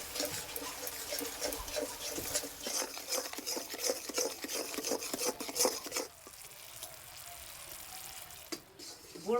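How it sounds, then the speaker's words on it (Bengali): Sugarcane jaggery frying in a pan while being stirred, with a steady sizzle and repeated scraping strokes of a utensil against the pan, close and fairly loud, then quieter sizzling after about six seconds. "গুড়টা একটু ভালো করে ভেজে নেব।"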